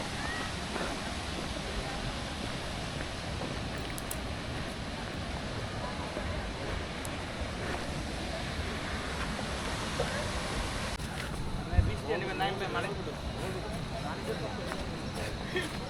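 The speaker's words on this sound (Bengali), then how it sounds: "ওই জায়গা থেকে নাফাখুমের ঝর্ণার আওয়াজ শোনা যাচ্ছে।" Nafakhum waterfall roars as a steady, faint broadband rush far off, running continuously beneath a person talking close by.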